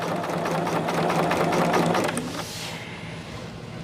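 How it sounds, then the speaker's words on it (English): Sewing machine stitching quilt fabric from corner to corner, a rapid steady mechanical whir running for about two seconds before stopping, followed by faint handling noise. "Now what I will do on this one is sew directly on that line from corner to corner."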